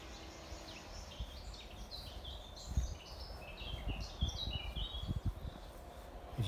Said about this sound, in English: If you can hear, like me, the bird song, imagine that every day waking up to.